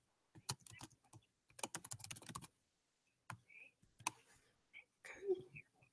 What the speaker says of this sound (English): type my question